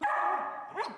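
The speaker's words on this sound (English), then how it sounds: "the dog with the world's friendliest bark" A Swedish Lapphund gives a single drawn-out, friendly bark that rises and bends at the end, loud and close, with no other sounds around it.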